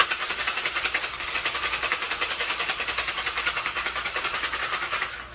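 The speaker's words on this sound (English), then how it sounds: "when you shake it, don't mess around, like really shake it" Ice rattles rapidly inside a metal shaker in a fast, even rhythm of sharp clacks, shaken hard and continuously for several seconds, then stopping.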